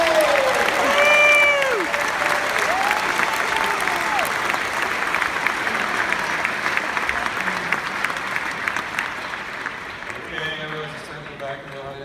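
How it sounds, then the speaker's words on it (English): An audience at a magic show claps and cheers steadily, fading slightly toward the end, with voices calling out over the applause. "Let's get you a round of applause."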